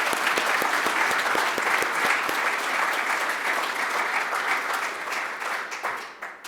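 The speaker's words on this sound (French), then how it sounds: "vous pouvez encore les applaudir une fois" Audience applause at a forum's closing evening, a dense burst of clapping that stays steady and loud, then thins out and fades near the end.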